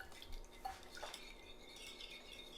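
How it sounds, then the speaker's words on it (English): Soft clinks and scrapes of a utensil stirring a zucchini noodle mixture with fresh lemon juice in a bowl, quiet and close, a few light taps against the dish. "And I'm just going to give this a little stir."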